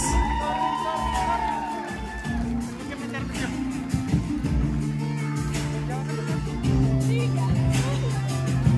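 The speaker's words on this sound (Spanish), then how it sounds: "quiero un fuerte aplauso en esta noche para los causantes de esta bonita fiesta" Crowd at an evening quinceañera party cheering and whooping to welcome the birthday girl's parents, loud and lively hubbub with shouts, mixed with voices talking and music in the hall.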